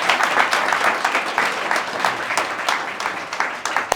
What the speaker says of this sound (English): Can we clap it up one more time for Mr.